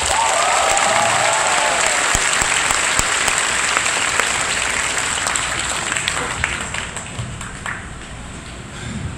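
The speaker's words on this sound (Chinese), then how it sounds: "先给自己一个掌声吧。" Sustained applause and cheering from a packed crowd of about 1,100 at a rock concert in the Legacy music venue in Taichung, dense clapping filling the hall and slowly easing toward the end.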